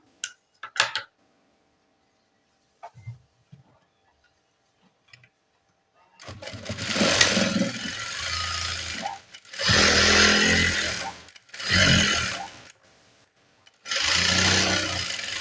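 Sewing machine stitching a nurse uniform top, running in several loud bursts of rapid mechanical whirring separated by short pauses, after a few quiet clicks and handling sounds at the start.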